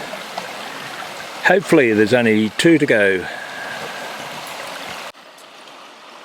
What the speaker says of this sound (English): This is creek crossing number 11.